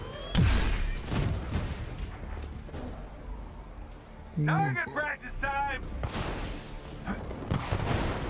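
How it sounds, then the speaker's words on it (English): Gun turrets firing in the Marvel's Avengers video game, sharp booming shots at the start and scattered impacts over a continuous game soundscape, with voices talking partway through. "Okay, yahan pe turrets bhi hain."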